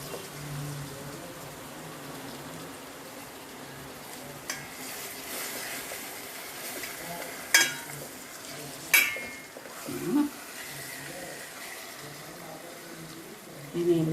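Pieces of fish fry in a Coastal Andhra style pan with a low, steady sizzle, broken by a few sharp scrapes and clinks as a spoon turns them over.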